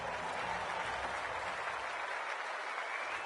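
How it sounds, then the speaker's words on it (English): Steady, dense crowd roar at a VFL Round 1 football match between the GWS Giants and Hawthorn, a continuous broadband wash of cheering and clapping with no single voice standing out. "The crowd already making plenty of noise as the captains come together"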